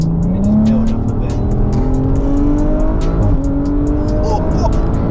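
A Stage 3 tuned twin-turbo Audi RS4 making around 700 BHP pulls hard from inside the cabin, its engine note climbing steadily through the gears with loud, rising drone and sharp intake and turbo noise throughout.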